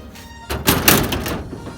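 A car door is pushed shut with a dull thunk and a rattling, scraping follow-through as the door fails to latch and lock, close and fairly loud after a quiet start.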